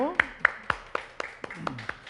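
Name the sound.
audience clapping in church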